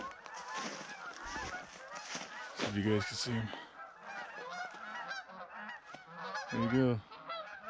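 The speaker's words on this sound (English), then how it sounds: "There's a big flock of geese coming right now." A flock of Canada geese honks repeatedly overhead, loud bursts of calls rising and falling, with a person speaking briefly over the clamor.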